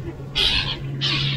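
A bird snagged on a fishing line at the Corniche in Al Khobar, Saudi Arabia, gives two loud, harsh squawks in quick succession over a low steady hum.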